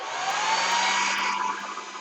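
A hair dryer runs steadily close by, a loud continuous high whooshing blow with a constant motor hum, lasting about two seconds with no voices.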